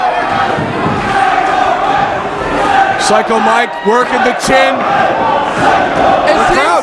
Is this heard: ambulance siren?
no